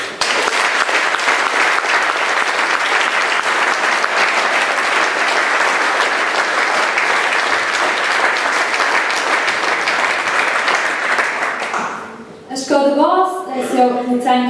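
Sustained, dense applause from a concert audience for a choir, loud and even for about twelve seconds before fading out, followed by a voice speaking.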